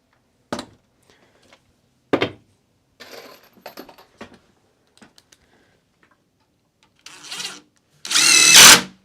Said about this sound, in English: Let's drill a little pilot hole and just send a screw up in there.